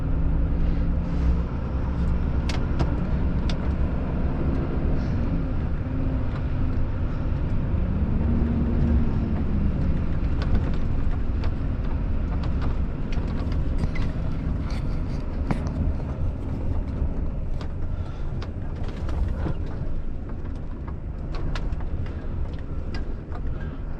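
Truck driving through thick mud, a loud continuous engine drone and rumbling roll that stays steady throughout, close and alone without talk.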